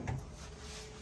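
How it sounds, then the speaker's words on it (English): A hotel room desk drawer gives a quick, soft slide and knock right at the start, then only quiet room tone with a faint hum remains. "And you have your drawers."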